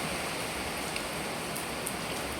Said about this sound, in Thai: มื้อนี้ฝนจะตกเนาะ